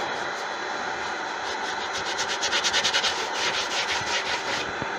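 Thin sawdust is rubbed by hand into a crack in a warped wooden bowl, giving a soft, close scratching and rubbing that turns into a quick rhythmic run of strokes midway, with no talking.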